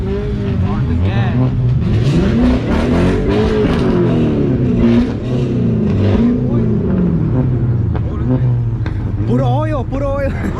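A car engine revs repeatedly at a Saturday night car meet, loud and close, its pitch rising and falling in several swells, with people talking over it toward the end.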